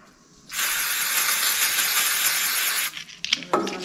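Aerosol brake cleaner hisses loudly onto a washer and nut during disc brake work on a 1970 Chevy C10, one steady spray lasting over two seconds, followed by a few soft rubbing and handling noises.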